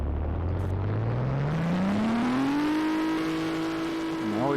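An ACF-built car engine in Garry's Mod revs up in a long, smooth, rising whine that levels off into a steady loud drone, then dips briefly at the end.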